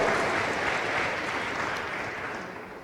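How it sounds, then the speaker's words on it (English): A conference audience at a women's event applauds, the dense, sustained clapping filling the room and gradually tapering off toward the end, with no talking over it. "So I will ask again if you will applaud yourselves"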